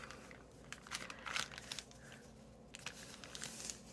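A small plastic baggie of packing material is folded over by hand, producing faint, close crinkling and crackling in short irregular bursts.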